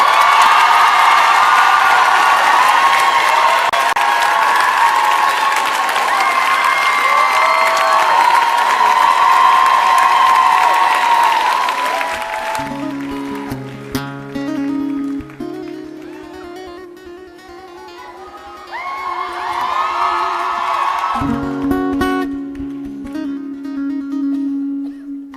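At Bercy arena, a huge concert crowd screams and applauds for the singer, a loud roar of high-pitched cheering for about half the span. It fades under sparse music and then swells again briefly.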